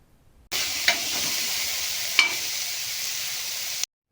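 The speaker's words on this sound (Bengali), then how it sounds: "পেঁয়াজ লঙ্কা ভাজতে ভাজতেই টমেটো কুচিটা দিয়ে দিতে হবে, দিয়ে আবারও একসঙ্গে ভালো করে ভাজতে হবে।" Chopped onion, green chili and tomato sizzling in a pan for street-style egg chaat, a steady close frying hiss that starts abruptly, with two brief stirring clatters, then cuts off.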